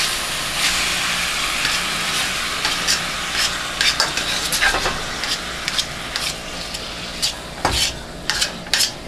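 Canned chili simmering in a pot on medium-high heat, with a steady low sizzle and repeated scraping clicks of a spoon stirring against the pot, close and clear with no talking.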